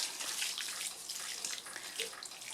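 Water from a hose or tap rinses fertilizer off the leaves of young cabbage seedlings, a steady soft hiss of spray and splashing that runs the whole time with no voices.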